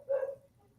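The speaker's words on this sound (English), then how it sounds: "Athena's barking." A dog named Athena gives a single short, sharp bark close by, its sound tapering off quickly into quiet.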